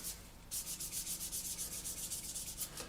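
Light, rapid rubbing strokes scrub masking fluid off the painted surface of an Airfix 1/48 Sea Vixen scale model, a soft steady scratchy rhythm of about a dozen quick passes, close and quiet.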